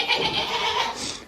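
A goat gives a short, nasal bleat, close and fairly loud, lasting about a second with no talk.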